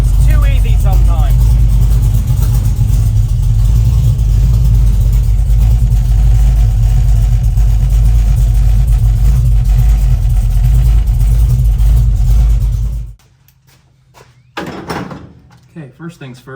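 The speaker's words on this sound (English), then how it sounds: "we're gonna run the truck really quick, get the lifters to pump up because they are hydraulic" A big block Ford truck engine runs at a steady idle up close, a loud low rumble that lasts most of the time before cutting off abruptly, followed by brief clunks and a voice.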